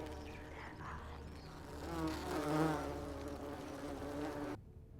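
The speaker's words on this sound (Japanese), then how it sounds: "蜂が。" Bees buzzing in the video game The Forgotten City, a continuous droning hum that swells in the middle, close and steady, then cuts off abruptly near the end.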